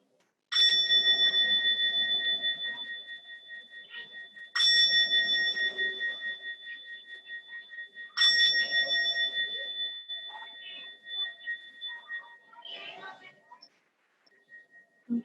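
A meditation bell is struck three times, roughly every four seconds, each strike ringing clear and sustained before slowly fading; a few faint soft rustles follow the last tone.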